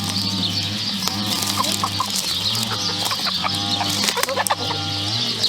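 Chickens cluck and call repeatedly in a farmyard pen, a steady chorus of short, close clucks with occasional wing flaps and no talk.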